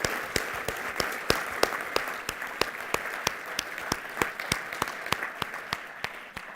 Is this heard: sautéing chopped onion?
no